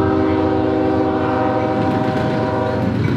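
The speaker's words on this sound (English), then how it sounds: "a southbound mixed freight on the Toledo sub" A loud CSX freight train, Q511, rumbles close by in Deshler, Ohio, with a sustained, multi-tone horn blaring over the clatter of passing cars.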